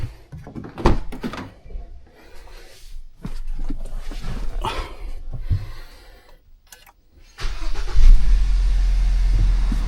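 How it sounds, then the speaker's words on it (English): A car engine starts after scattered knocks and door-like thumps, then settles into a steady, loud idle rumble for the final two seconds. "I'm going to turn the car on."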